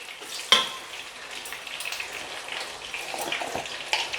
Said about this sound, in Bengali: আলুগুলোকে খুব ভালো করে হালকা লাল করে আমি ভেজে তুলে নেব